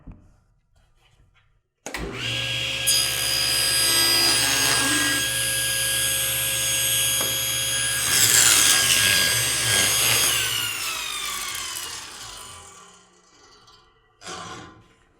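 A table saw starts up and cuts curved wooden trim, a loud steady blade whine with rising rasp as the wood feeds through, then spins down, followed by a brief clunk.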